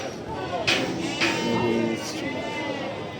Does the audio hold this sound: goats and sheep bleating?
yes